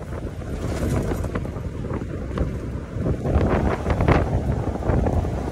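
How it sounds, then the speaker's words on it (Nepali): Cold wind buffeting the microphone on a mountain trek, a continuous low rumbling roar that swells louder toward the end, with no voices. "एकदमै चिसो हावा तर फ्रेस होइन"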